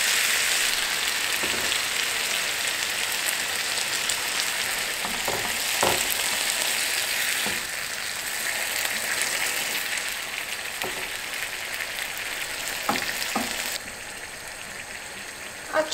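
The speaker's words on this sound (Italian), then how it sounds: "Vado a versare l'acqua qui." Water poured into tomato passata in a hot pan sets off a loud, steady sizzle and bubbling spatter with occasional sharp pops, easing slightly near the end.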